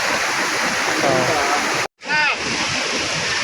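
Water from Kwaibala Falls and its stream rushes in a steady loud hiss, with a brief cut partway through, while people talk faintly over the roar.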